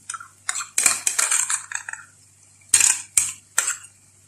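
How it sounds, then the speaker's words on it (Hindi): A spoon clatters and scrapes around a bowl while stirring chili sauce and ketchup, a burst of quick clinks followed by a pause and then a few separate sharp taps, close and clear. "अब मैं इसमें डालती हूँ 2 टेबल स्पून चिली सॉस, और केचप को मैंने मिलाया हुआ है"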